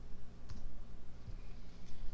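Keys pressed on a computer keyboard while entering text into Excel cells, a few soft separate clicks over steady low background hum, with no voices.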